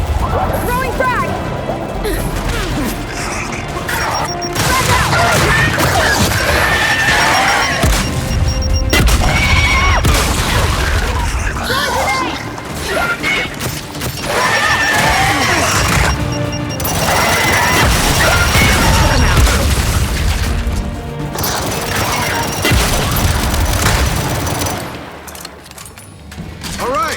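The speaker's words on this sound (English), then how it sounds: "Throwing frag!" Frag grenade blasts and bursts of gunfire fill a Gears 5 video game battle, loud and dense with repeated booms and rattling shots, while voices shout over the combat.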